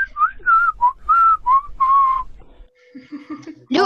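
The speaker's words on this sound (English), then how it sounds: "Can we do whistle? Just whistle." A person whistles a short melodic phrase of several clear, bright notes, close and alone, followed by brief quiet voices.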